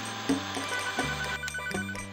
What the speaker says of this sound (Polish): Dzwoni Lloyd.